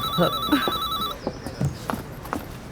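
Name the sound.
telephone ringing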